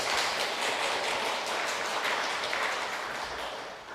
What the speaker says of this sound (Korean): 우리 박수로 한번 격려해 볼까요?